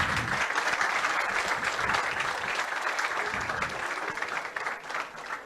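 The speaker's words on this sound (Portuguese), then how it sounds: "Mais palmas, professor Joviniano." A seated audience at an academic award ceremony applauds a professor, with dense, steady clapping from many hands that fades slightly toward the end.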